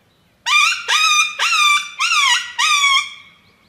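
Five shrill, falling ki-yi yelps blown by a person on a bark howler reed coyote call, each a short strained squeal in an even rhythm, loud and close, imitating a coyote's yelp.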